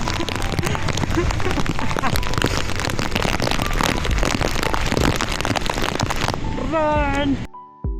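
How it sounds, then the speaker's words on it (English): Heavy rain from a sudden storm in Kuala Lumpur pours down as a loud, dense hiss with spattering drops for several seconds, then cuts away as a voice briefly speaks near the end. "we were surprised by a sudden storm with a lot of rain"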